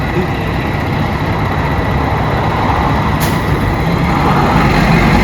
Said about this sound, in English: Truck 1 rolling out.